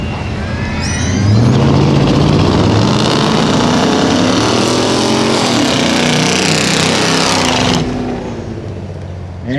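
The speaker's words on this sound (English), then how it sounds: "Once they're both set to go, they'll signal the tree and away they go." Two gas-powered Ford 4x4 trucks launch off the line in a track drag race, their engines swelling into a loud, sustained roar that holds for several seconds before cutting off abruptly near the end.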